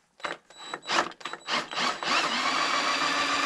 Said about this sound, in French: Et je vais faire tourner avec ma perceuse, je vais faire tourner mon moteur.